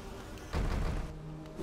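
Insect buzzing from bees in the Hollow Knight video game, a brief, loud droning burst that swells suddenly and then fades back under quieter game ambience.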